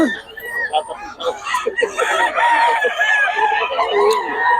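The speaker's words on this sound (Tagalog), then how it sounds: "Yun talaga mga manok ni Boss Perry mga idol." Several roosters crow and chickens cluck close by, overlapping calls filling the space with no talk.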